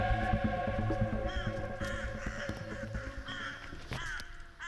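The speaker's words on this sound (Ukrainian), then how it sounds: "це ворони каркають" Several crows caw repeatedly, loud and close, their harsh calls overlapping against a steady background hum.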